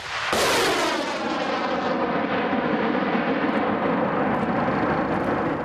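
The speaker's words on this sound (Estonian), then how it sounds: "soojatundlik rakett võttis lennuki sihikule ja mõne hetkega oli vaatemäng läbi" A Mistral heat-seeking missile launched at a target aircraft during live firing in Estonia, heard as a sudden loud blast followed by a sustained roaring rush that carries on steadily for several seconds.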